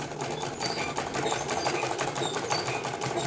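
A sewing machine stitches fabric along the outline of a paper shape for a boys' night suit, a loud, fast, even mechanical whirr running continuously up close.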